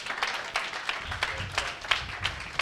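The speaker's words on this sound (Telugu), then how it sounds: "గట్టిగా చప్పట్లు కొట్టండి" Worshippers at a church service clap in a quick, even beat, a crowd of hands striking together in regular bursts that fill the room, with a low murmur underneath.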